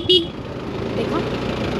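A single short car horn toot near the start, on a mountain ride near Jibhi, Himachal, followed by the steady rumble of a vehicle and faint voices.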